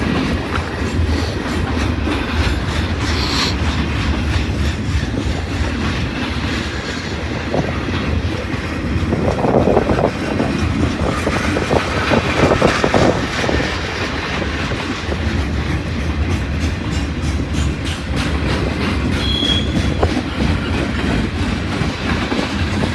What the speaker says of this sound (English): Comes the end of the train now.